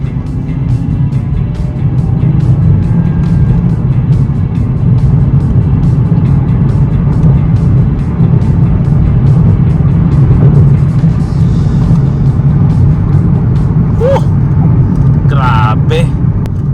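A 2015 Mazda Speed 3 hatchback in sports mode accelerates hard from second gear using paddle shifters, its engine a loud, steady close-up drone heard from inside the cabin with faint voices near the end.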